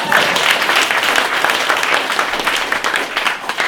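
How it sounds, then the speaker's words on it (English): A crowd at an improv comedy show breaks into loud, sustained applause, many hands clapping in a dense, even wash that eases slightly toward the end. "Let's give a big round of applause"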